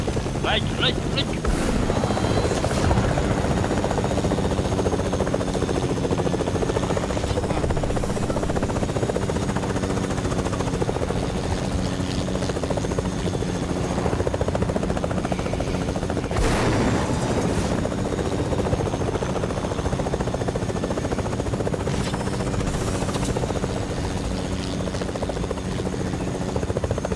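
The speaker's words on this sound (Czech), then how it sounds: "Tady je vrtulník." A helicopter in the video game Fortnite drones steadily with a loud, continuous rotor thrum that persists throughout, punctuated by occasional sharp in-game impacts.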